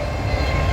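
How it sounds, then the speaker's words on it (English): A CP freight train rolls past in Maple Creek, Saskatchewan, a loud continuous rumble of railcars and wheels on track, steady and close, with no voices. "And there goes the train."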